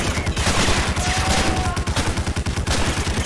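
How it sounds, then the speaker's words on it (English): A mounted machine gun in the game Medal of Honor Allied Assault fires in a steady rapid burst of loud rhythmic shots that run through the whole stretch, close and dense. "If you are quick enough here, you can get onto this gun and shoot the guys"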